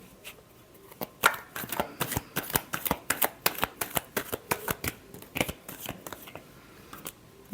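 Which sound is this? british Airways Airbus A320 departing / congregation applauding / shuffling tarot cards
shuffling tarot cards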